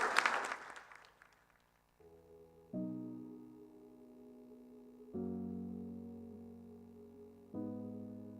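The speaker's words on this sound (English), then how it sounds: "Give a huge round of applause," A live audience bursts into applause at the Agrovon 2024 event, loud at first and quickly fading after about a second and a half, then giving way to steady sustained musical tones.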